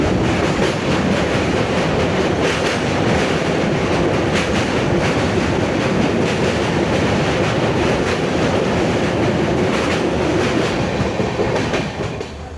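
A passenger train runs steadily on rails near the Maithon and Panchet dams, its loud continuous rumble and clickety-clack heard from inside the carriage before easing slightly at the end.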